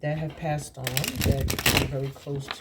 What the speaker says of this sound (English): I'm gonna put them back into the deck and shuffle again.